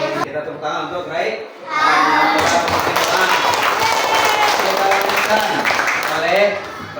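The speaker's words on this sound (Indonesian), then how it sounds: "Kita tepuk tangan untuk Rai." Children in an Indonesian primary classroom clap for a pupil, a burst of loud mixed handclaps with chatter rising after a quiet start and continuing for several seconds as a teacher's voice leads.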